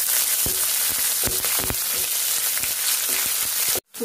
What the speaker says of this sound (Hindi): अब डालेंगे प्याज। प्याज को हल्का गोल्डन करेंगे।